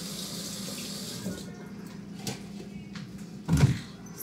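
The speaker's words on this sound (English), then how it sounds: "So I'm going to just grab" A kitchen tap runs steadily for several seconds to collect water for chilling pie crust dough, a broad rushing stream. It then stops with a brief louder splash and clunk near the end.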